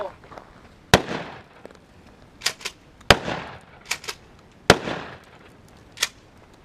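Mossberg 590A1 AOW 12 gauge shotgun fired outdoors during casual shooting: three loud, sharp blasts spaced about two seconds apart, each with a short rumbling tail, separated by quieter clacks of the pump action.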